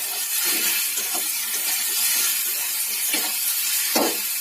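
Vegetables with turmeric and salt fry in a pan for a sour dish made with mango and pumpkin, giving a steady moderate hiss and sizzle with a few brief louder crackles and bursts near the end.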